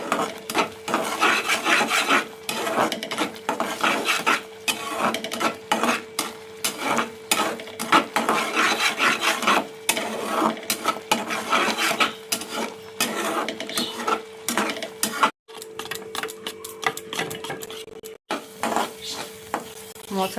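Katla fish curry masala with fried cumin and salt being sautéed: a busy, close rasping and scraping of a spatula through the thick paste over a steady sizzle, with no voices.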